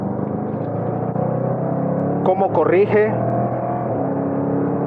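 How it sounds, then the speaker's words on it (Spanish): The V8 engine and exhaust of a Jaguar F-PACE SVR 1988 Edition drone loudly under an excited Spanish-speaking voice, then surge through a sharp rising rev sweep with a gearshift before settling back to a steady roar. "esfuerzo que hace el V8 en este coche."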